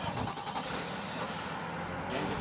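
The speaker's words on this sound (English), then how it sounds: "Hear that E-pump running at this moment" A close electric hydraulic pump on a truck runs with a steady, rough mechanical whir and faint rhythmic pulsing, no voices.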